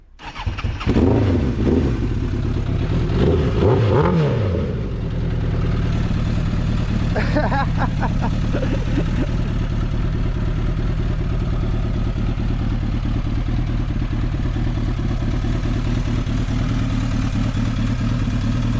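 A restored 1986 Suzuki GSX-R1100 motorcycle engine cranks, fires and settles into a loud, steady, close idle with a throbbing rumble that runs for the whole stretch, with people talking briefly near the start.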